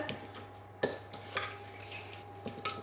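Stuffing and peeled tomatoes for Italian-style stuffed squid are stirred together in a pan, with a utensil scraping and knocking against the metal in a few quiet, irregular clinks.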